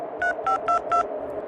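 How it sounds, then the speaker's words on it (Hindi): A telephone is dialed with four evenly spaced touch-tone beeps in quick succession, clear and close, over a faint background hum. "घबराई हुई कजरी ने तुरंत गैस वाले को फोन लगाया।"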